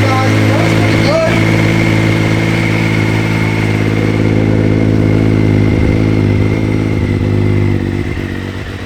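A Triumph Sprint motorcycle with about 20,255 miles runs at a loud, steady idle right after starting, its close engine note droning evenly with a brief clatter early on before easing slightly at the end.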